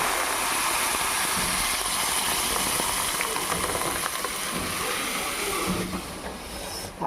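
Dal hits a hot pan of oil already holding fried curry leaves and sizzles hard in a broad, constant hiss that fades a little near the end, with nobody talking.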